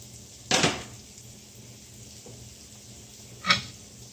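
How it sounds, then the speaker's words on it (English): Chopped onions go into a hot pan during meal prep: two short, brisk bursts of clatter and hiss a few seconds apart, heard close, with a faint steady hum between them and no talking. "let's go ahead and throw the onions in there."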